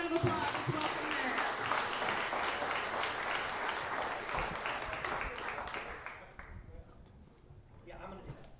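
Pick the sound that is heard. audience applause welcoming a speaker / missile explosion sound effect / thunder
audience applause welcoming a speaker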